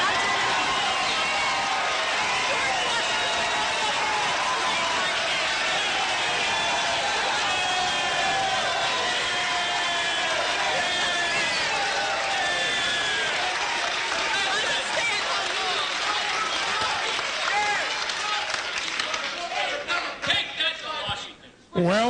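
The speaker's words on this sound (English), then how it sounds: "there are a few people who didn't stand up and applaud, but not too many" A town hall crowd in Lebanon, Pennsylvania rises to its feet, sustained loud applause and cheering filling the hall with dense babble, dying off at the end.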